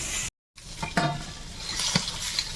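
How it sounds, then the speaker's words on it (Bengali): A hilsa fish head frying in a pan, with steady sizzle and a few stirring scrapes, broken by a brief silent gap near the start. "মাথাটা ভাজা হয়ে গেছে উঠিয়ে নিলাম"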